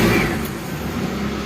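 A Daihatsu Zebra Espass car engine, still cold, runs with a steady low rumble close by, with no voices over it.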